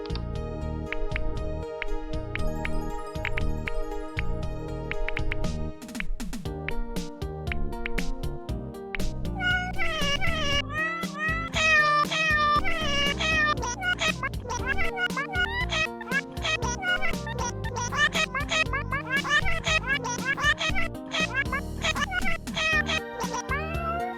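A cat meows and caterwauls in Plumbers Don't Wear Ties Definitive Edition on Xbox, repeated tonal cries over a busy game music background that runs throughout.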